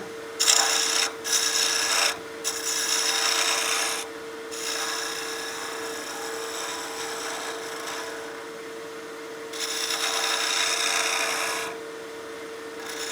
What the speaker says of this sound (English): So now I'm going to switch to my spindle gouge and we'll start getting the radius we're looking for.